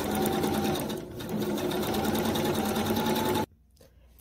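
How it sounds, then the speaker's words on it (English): A sewing machine top stitches the lining of a dress along the armhole, a loud continuous buzzing run that stops abruptly near the end, leaving near silence. "Now I'm going to top stitch the lining in the armhole down to the armhole."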